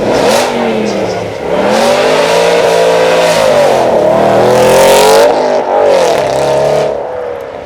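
An Aston Martin GT8 engine revs loudly and close at a supercar weekend, with repeated rising and falling pulls over continuous roar and crowd noise behind.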